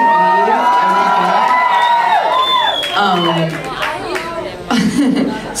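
A concert-hall audience in New Orleans cheers and whoops with scattered laughter, a loud, sustained crowd roar that swells and dips, with voices shouting over it throughout.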